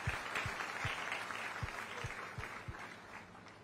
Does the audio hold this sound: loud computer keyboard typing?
no